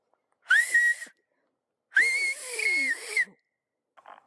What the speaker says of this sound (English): Let me let out a whistle and see if you hear that.